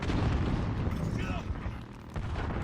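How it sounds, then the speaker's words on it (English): A cruise missile strike in a Call of Duty video game, a sustained, loud, rumbling explosion roar that fills the whole stretch, with a voice faintly over it. "Enemy Allied cruise missile on the way"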